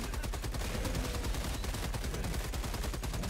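A heavy machine gun turret fires continuously in the Helldivers 2 video game, a rapid, even stream of loud shots hammering without pause, with no talking.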